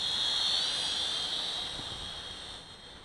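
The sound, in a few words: Huajun HJ818 Pathfinder toy drone flying by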